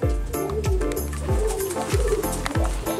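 Domestic pigeons coo repeatedly at a loft door, several soft rolling coos in steady succession, close and clear with a little background rustle.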